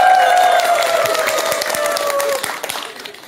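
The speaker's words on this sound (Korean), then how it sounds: "박수를." Audience applause and cheering at a Buddhist monk's talk, loud dense clapping from a crowd with a held sung or hummed tone running through it, tapering off toward the end.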